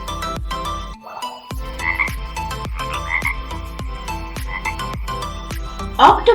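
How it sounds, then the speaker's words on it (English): A frog croaks in a steady rhythmic series of sharp, close, repeated calls with brief pauses, loud and alone with no talking. "frog"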